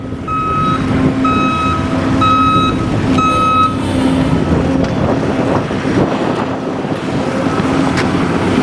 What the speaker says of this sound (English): we got this postal truck over here doing 90 miles an hour on this little road